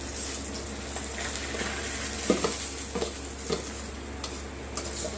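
A bay leaf sizzling in hot oil with cardamom, cloves and cinnamon in a pot for mutton kosha and sweet pulao, a soft steady fry with a few light clicks of a utensil against the pot.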